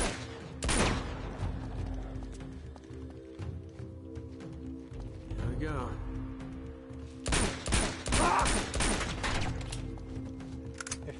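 Gunfire from the action video game Uncharted: several loud bursts of shots near the start and again later, with a steady game background hum in between.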